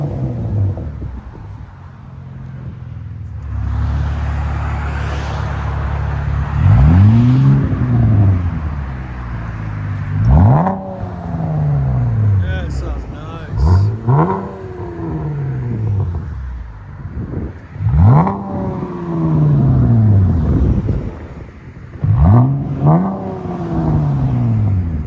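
Chevy Camaro RS V6 exhaust with aftermarket muffler revs repeatedly, five or six sharp rising-and-falling blips over a steady idle rumble, close and loud with no talking.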